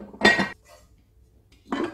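Marble-coated cooking pots, a small one and a slightly bigger one, are handled during a kitchen cookware unboxing, giving two short metallic clanks and clinks separated by a quiet pause, close and fairly loud.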